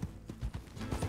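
Horse hooves galloping in the Western game Red Dead Redemption 2, a quick rhythmic series of dull thudding clip-clop beats, fairly close but soft.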